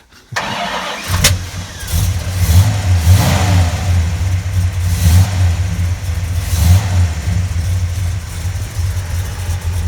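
A 1969 Dodge Charger cranks and fires, then settles into a loud, lumpy idle with a few throttle blips swelling and fading, heard close up.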